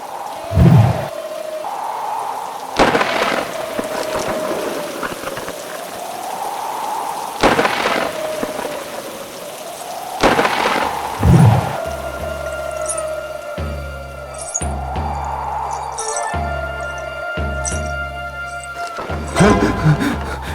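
Heavy rain pours steadily throughout, with several sharp loud cracks and booms of thunder breaking through at intervals and low rumbling thuds later on.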